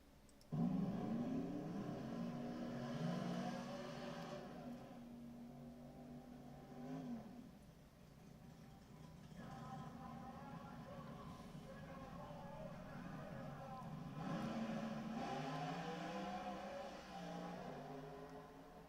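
Hot rod cars racing at the Night of Fire grudge race, engines roaring and revving in long surges with brief dips between, moderately distant and steady, with a crowd and voices murmuring underneath.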